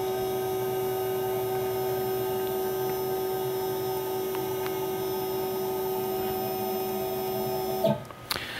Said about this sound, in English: If I press that, the machine goes to the origin.